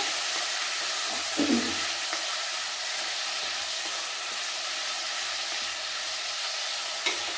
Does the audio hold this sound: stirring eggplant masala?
yes